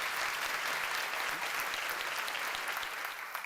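A church congregation claps hard and fast during worship, a dense continuous roar of many hands that stays loud and even throughout.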